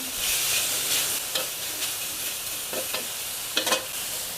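Pork belly fries in a hot pan for a Thai jungle curry with pumpkin, giving a steady hissing sizzle with occasional scraping stirs of a utensil, close and continuous without talk.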